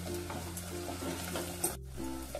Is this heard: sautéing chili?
yes